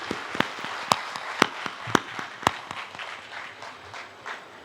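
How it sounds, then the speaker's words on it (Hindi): An audience at a live kavi sammelan poetry recital in Kotadi Charbhuja applauds, a few sharp, loud individual claps ringing out over a softer crowd patter that thins and fades. "एक बार मुझे मेवाड़ जैसी तालियां बजाकर अब आदेशित कर"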